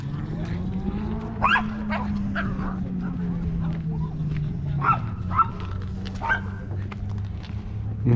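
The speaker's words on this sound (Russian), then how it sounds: "Вот собачек тут много." Several dogs bark in short, scattered bursts among visitors at Trakai Castle in Lithuania, with crowd chatter and a low steady hum running underneath throughout.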